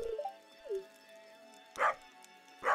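A dog in the farming video game Stardew Valley gives a few short, bright barks, spaced apart over light background game music.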